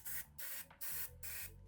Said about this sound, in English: I'm gonna hit it with brake clean first